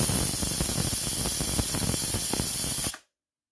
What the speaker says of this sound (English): use the pressure release button to release the steam and be able to open the cooker sooner